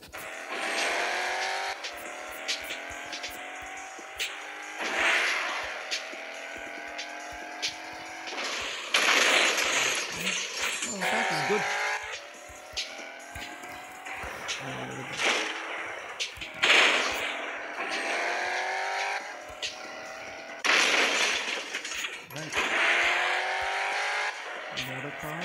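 Chevrolet Impala SS racing in a Fast & Furious takedown video game, with a steady engine roar and repeated rising gear sweeps, bursts of impact and tire noise throughout, and a voice talking over it.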